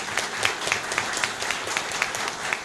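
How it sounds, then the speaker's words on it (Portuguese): People at a public hearing and debate applaud a visiting federal deputy, a room full of hands clapping in an even, rhythmic beat that stays fairly close and continuous throughout. "nosso querido deputado federal Arthur Bruno, que eu peço uma salva de palmas"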